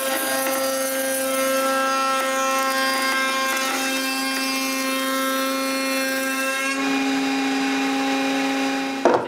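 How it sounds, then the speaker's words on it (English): A power tool cuts grooves into wooden rails and stiles for a shop chest of drawers, giving a steady loud whining drone with harmonic ringing that shifts pitch near the end and then stops. "I can mark where I need to cut the grooves on the rails and stiles and cut them."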